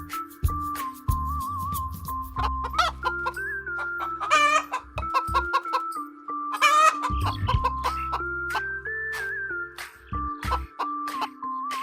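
On a farm, a hen gives repeated clucks and a couple of louder, drawn-out squawks, heard clearly over a lively backing tune with a steady pulsing beat.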